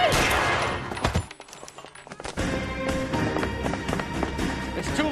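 Gunfire during a tense confrontation in L.A. Noire, a sharp burst of shots up front followed by a brief lull, then busy, clattering action sounds and scattered reports continuing under game noise.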